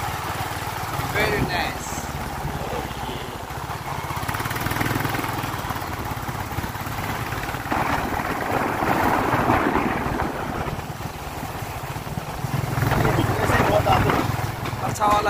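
A motorcycle rides along a road on the trip from Rumtek to Gangtok, its engine droning steadily with rising and falling wind rush, while a rider talks over it throughout.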